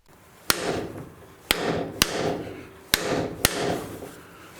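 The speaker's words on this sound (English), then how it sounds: "just hit it with the hammer to get it started" Five sharp metallic hammer strikes on a ball joint tool driven into a rear spring hanger on a Ford Explorer, Ranger or Mercury Mountaineer, irregularly spaced, close and loud, each followed by a brief ringing decay.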